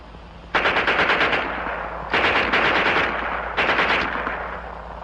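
A German Schmeisser submachine gun fires three rapid automatic bursts, each about a second long, loud and close, separated by short pauses.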